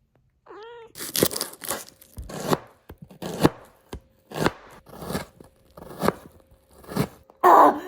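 A knife chops onions on a cutting board in a steady rhythm of about a dozen crisp strokes, with a short cat meow at the start.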